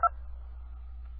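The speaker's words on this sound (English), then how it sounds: "Dialing." Two DTMF keypad tones open the line on an AT&T prepaid calling card service, a brief pair of beeps over a steady low hum, followed by a quiet line with faint tonal murmur.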